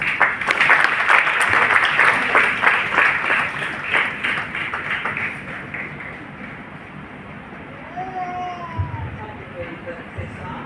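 A church congregation at an Easter worship service applauds loudly to welcome a preacher, the clapping dense for about six seconds before fading into quieter room sound and talk.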